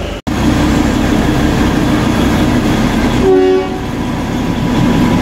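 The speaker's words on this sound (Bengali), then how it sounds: "দেখতেই পাচ্ছ আমাদের টয় ট্রেন চলে এসছে" The Darjeeling Himalayan Railway toy train, running from Darjeeling to Kurseong, arrives with a loud, steady mechanical rumble close by and a single brief horn blast midway, with no talk.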